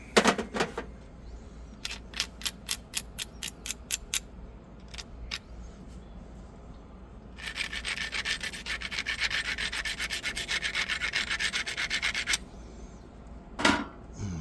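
Stone biface edge ground against an abrasive, first as a quick series of short sharp scrapes, then a sustained rough grinding rasp for several seconds, close and fairly loud, with one last scrape near the end.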